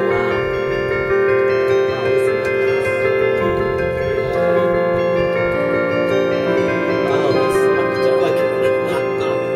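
Flemish bells in a bell tower ring on continuously, their rich, shimmering overtones blending into a dense, sustained wash with faint strikes showing through. Loud, steady and unbroken, with no voices.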